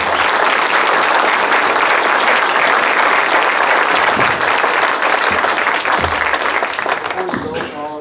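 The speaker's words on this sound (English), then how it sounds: "can we have a round of applause for all of" Sustained loud applause from an audience at a PTA candidates' meeting, dense clapping that continues for several seconds before tapering near the end, with faint voices underneath.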